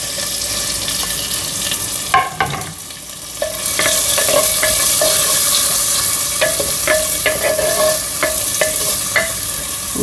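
Onion, green chilli and curry leaves sizzle steadily in a clay pot as the base for a lady's finger pulusu. A spoon scrapes and taps against the pot at irregular intervals, close and fairly loud, with no voices.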